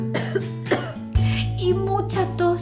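A single cough voiced by a storyteller in a Spanish-language children's tale, sharp and close, heard amid ongoing narration.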